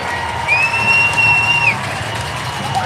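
Hockey arena crowd roaring and cheering after a fight in which one punch drops a player, a loud sustained din of many voices with a whistle-like tone rising over it.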